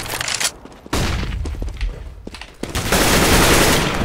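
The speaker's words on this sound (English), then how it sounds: "Flashbang!" Flashbang grenade going off in CS:GO competitive play, a sharp broadband burst followed by a sustained loud hiss and ringing, with gunfire bursts scattered around it; no speech.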